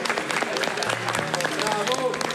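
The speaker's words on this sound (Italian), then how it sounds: "Ci facciamo un applauso a sta ragazzina" An audience claps for a young girl, a brisk burst of applause with distinct individual claps, while voices and some tonal background sound carry underneath.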